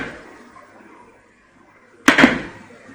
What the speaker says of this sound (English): this is a solid metal hammer, and I'm banging it on this steel toe